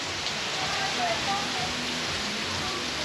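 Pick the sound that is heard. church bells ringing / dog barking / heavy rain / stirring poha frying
heavy rain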